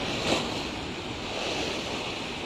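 Surf rolls onto a village shoreline where waves are eroding the road, a continuous loud wash of breaking water mixed with wind noise on the microphone.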